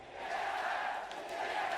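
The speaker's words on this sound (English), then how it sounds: "the TSM chants out of the Chinese crowd" Chinese crowd at the 2017 League of Legends Worlds quarterfinal (LZ vs SSG) chanting TSM, a steady dense roar of massed voices that stays loud and continuous throughout.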